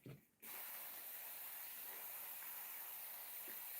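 A spray bottle mists water onto cactus seedlings in one long, close, steady hiss that begins after a short quiet moment and continues to the end.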